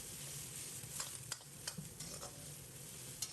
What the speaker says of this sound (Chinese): 开中火在锅中煸炒2分钟，把茭白的水分炒干，炒出香味